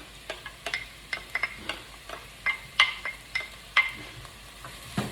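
Red and yellow peppers hitting a pan of sizzling shallots and garlic, with a soft fry under repeated stirring clicks and scrapes, quiet and close.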